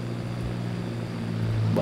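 A steady droning engine hum, like a propeller plane passing overhead, continuous and fairly loud with no voices.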